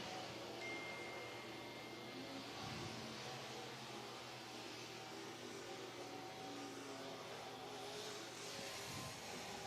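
Race cars circling at Whynot Motorsports Park in Meridian, Mississippi, a faint distant engine drone that holds steady throughout, with brief swells as cars pass and no talking.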